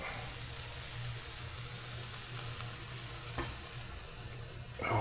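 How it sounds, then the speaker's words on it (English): Coconut milk goes into a hot pan where a steady, close frying sizzle hisses continuously, with a brief clatter near the end. "let's go in with the coconut milk"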